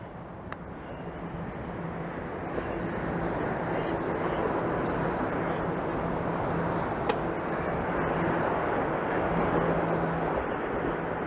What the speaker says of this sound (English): There goes a northbound train up through what appears to be a bit of an S-curve.